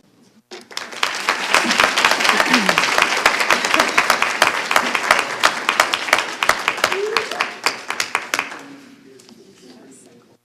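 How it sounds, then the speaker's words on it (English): A crowd at a school board meeting claps loudly for about eight seconds, a dense run of sharp hand claps that swells quickly, holds steady, then thins out and fades. "Let's give him one more round of applause"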